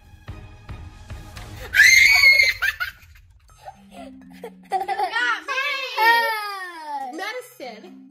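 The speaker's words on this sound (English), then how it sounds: "That was a loud scream." A child playing hide and seek indoors lets out one loud, shrill scream. Excited children's voices, giggling and chatter follow close by.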